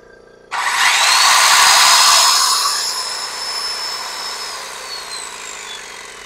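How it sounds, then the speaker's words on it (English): An air compressor and a circular saw running off a portable power station start abruptly together, a loud close whine with a high tone that slowly falls as the motors keep running. "Let's see if we can do the air compressor and that circular saw."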